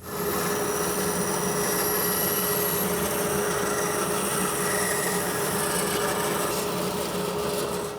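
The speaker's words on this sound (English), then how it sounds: "I'll go cut that out on the bandsaw." A bandsaw runs continuously nearby, its motor humming with a steady whine while the blade grinds through material without pause.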